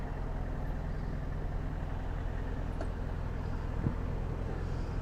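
A motorcycle idles at a fast food drive-thru, a steady low throbbing rumble held close and constant throughout, with no talk over it.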